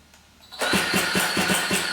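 A Zenoah G320 petrol engine cranks over on an FID electric onboard starter and catches after a short whir, then runs loud and close with a rhythmic pulsing idle.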